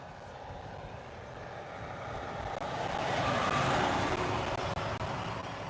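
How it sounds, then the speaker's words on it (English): A truck driving down a road outside the SpaceX Starbase main gate at Boca Chica, Texas, rumbling louder as it nears and passes, with broadband road noise and no talk. "let me just focus on this truck coming down the road here"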